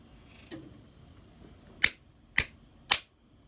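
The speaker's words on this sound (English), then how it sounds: "I'm going to clap again." Three sharp hand claps ring out about half a second apart in a quiet room, each crisp and close, with faint room noise between them; an Arduino sound module setup sits nearby.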